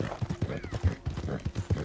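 Horse hooves clip-clop in a steady rhythm in a Rockstar video game, moderately loud, with faint ambient game sound and a brief whinny-like tone mixed in.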